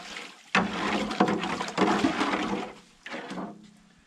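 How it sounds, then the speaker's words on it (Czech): A bucket of water is sloshed into a container for slaking lime during a plastering job. Loud splashing bursts come in several surges over a few seconds, with no talk. "Takže tam Verča tam pro mě chrstne kýbl vody."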